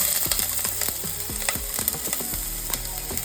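Chopped onion crackles and sizzles in oil in a preheated pot over medium heat, with a steady hiss broken by clattering stirs and scrapes, close and fairly loud with no talking.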